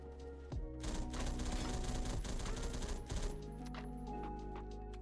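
A gun in the Roblox shooter Phantom Forces fires in burst mode, rapid stuttering volleys of shots packed closely together for a couple of seconds, loud and near, before falling back to quieter game ambience.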